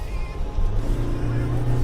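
A Toyota Hilux double cab diesel pulls away under throttle, its engine drone swelling and rising in pitch from inside the cabin, loud and steady.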